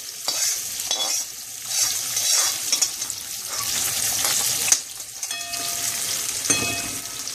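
Onions and curry leaves frying in oil in a pan, a continuous crackling sizzle broken by repeated stirring scrapes, close and fairly loud with no talking.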